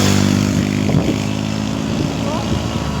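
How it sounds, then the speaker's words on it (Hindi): Motorcycles ride past in a village wedding procession, a steady engine drone with passing revs mixed into loud crowd noise and chatter. "बाइक वाले कुछ ऐसे दौड़ रहे हैं ना जैसे कि बस"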